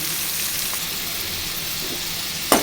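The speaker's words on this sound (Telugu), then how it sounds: "కొంచెం మగ్గాలండి పచ్చిగా ఉండకూడదు ఒక నిమిషము మగ్గాలి" Gongura curry gently sizzling and simmering in a pan over a medium flame, a steady soft hiss with one sharp clatter near the end.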